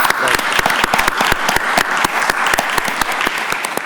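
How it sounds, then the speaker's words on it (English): Audience at a county board of commissioners voting session claps steadily, a moderate close patter of hands spread evenly with no pause, filling the room. "Let's give them a round of applause."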